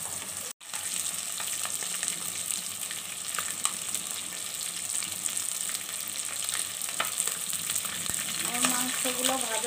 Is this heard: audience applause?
no